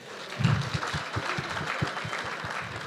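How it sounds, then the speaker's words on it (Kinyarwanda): An audience applauds for Papa Sava, a steady patter of many clapping hands with a few louder, distinct claps standing out near the front, continuous through the moment. "mubihe amashyi menshi cyane"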